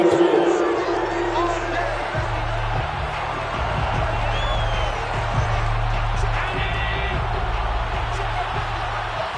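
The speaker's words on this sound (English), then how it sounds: "Plenty of shouts from this crowd as they watch the replay." A stadium crowd in an American football video game on PS5 roars and shouts steadily under a commentator's voice, a loud continuous wash of cheering while a replay plays.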